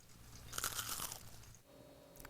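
Crunch of biting into crispy buttermilk onion rings: a loud, close bite with crackling breakup, then quieter chewing, with no talking.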